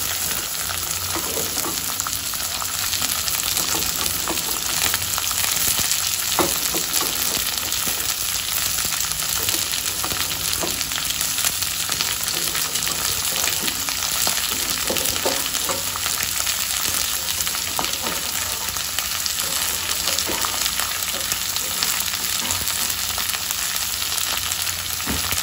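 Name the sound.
ghevda beans roasting in hot oil with asafoetida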